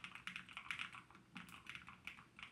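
Quick, steady typing on a Nuphy Kick75 mechanical keyboard with brown switches and white keycaps. The soft tactile clacks repeat at an even pace and are heard up close and quiet, with no talking.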